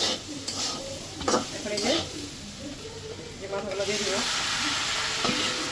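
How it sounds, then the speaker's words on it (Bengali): Fish head sizzles loudly in a hot pan with turmeric and chili as a spatula stirs and scrapes steadily, metal clinks recurring over the constant frying hiss, close and busy throughout. "হলুদ মরিচ দিয়ে একটু ভালোভাবে কষাবো"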